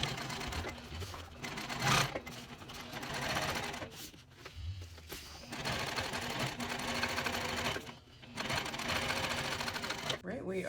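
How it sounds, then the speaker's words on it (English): A sewing machine runs in steady, fast bursts while topstitching a folded seam allowance on a backpack, with brief pauses between runs and a voice talking over it. "I'm folding my seam allowance up toward the back and top stitching it."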